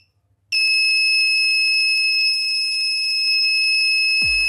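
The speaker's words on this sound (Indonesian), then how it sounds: "Bila ada yang memaksa dengan kunci L, kalian perhatikan akan berbunyi klaksonnya." A motorcycle anti-theft alarm fitted with a hidden TTP223 touch switch sets off the horn, a loud, steady electronic tone that starts abruptly after a brief silence, holds for nearly four seconds, then cuts off.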